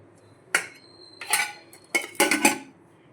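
Rice being served onto plates at lunch: a few sharp metallic clinks and scrapes of a serving spoon against dishes, four short bursts spaced apart with quiet between them.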